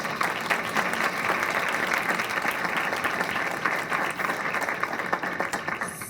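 An audience applauds steadily at a Fair Trade USA event, a dense, even wash of many hands clapping that holds at a constant level for several seconds, close and filling the room.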